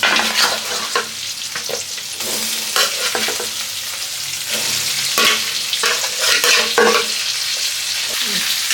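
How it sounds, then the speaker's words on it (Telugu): Turmeric-coated fish pieces fry loudly in a pan, a strong continuous sizzle with repeated scraping bursts as they are stirred, close and without pause. "ఇప్పుడు ఈ విధంగా మనం చేప ముక్కల్ని వేస్తాం కాబట్టి ఒకసారి మనం కలిపేసుకుంటున్నాము"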